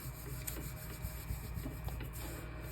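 Paint being rubbed through a stencil in layered painting, a soft, close scrubbing and rasping in short uneven strokes at low level, with no talking.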